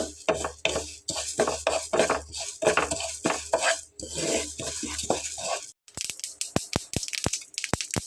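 Flaxseeds crackle and rattle while dry roasting in a hot pan with dense, irregular clicking and scraping, then a run of sharp, separate pops near the end. No voices.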